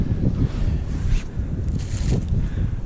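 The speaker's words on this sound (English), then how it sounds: "Blustery? Windy." Blustery wind in the aftermath of a Newfoundland blizzard roars continuously across the microphone, a loud, steady rumble with surging gusts and no voices.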